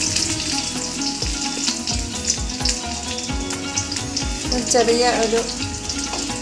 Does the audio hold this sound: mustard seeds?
yes